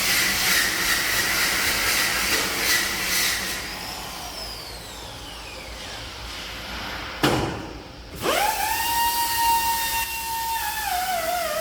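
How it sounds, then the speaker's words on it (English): A polishing wheel works a stainless steel work table in a factory, giving a steady loud abrasive hiss with rising and falling whining tones, a sharp brief burst midway, then a settling pitch sweep as the wheel spins down. "Different wheels create different finishing effects, helping us achieve a more uniform surface."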